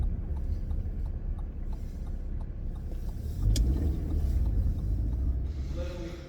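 A Volvo FH4 truck with a reported engine knock drives along, its low diesel engine rumble steady and moderately loud, swelling midway and fading at the end.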